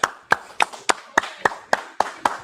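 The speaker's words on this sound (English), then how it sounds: "Go ahead, clap it up." A church congregation claps together at a feast-closing service, ten sharp, evenly spaced claps in a steady rhythm, close and clear with no talk.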